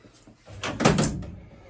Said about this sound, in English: once it closes, there's no way that door can come up